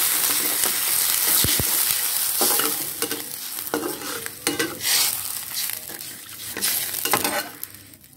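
Sautéed aromatics in a pan for soy-sauce eggs, stirred with a spatula while they fry. A steady sizzle runs throughout, with scraping strokes and short clatters against the pan, close and fairly loud, and no voices.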